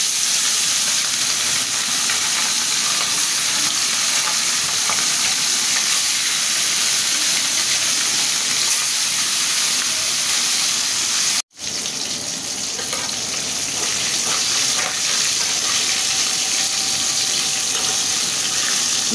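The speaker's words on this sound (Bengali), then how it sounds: "তেলটা গরম হয়ে গেছে, এখন আমি মাছটা দিয়ে দেব" Marinated fish frying in hot oil gives a loud, steady sizzling hiss that runs throughout, broken once by a brief cut near the middle.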